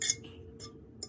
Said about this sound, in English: people don't like the sound of like utensils hitting a plate